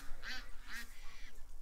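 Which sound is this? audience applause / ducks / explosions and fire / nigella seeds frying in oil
ducks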